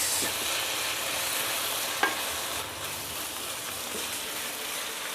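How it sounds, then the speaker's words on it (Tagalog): Pork belly being stirred with shrimp paste in a hot pan, a continuous soft sizzle with scraping spatula strokes and one sharp clack, close and moderately quiet, with no talking. "Haluin lang natin para mag-well combine."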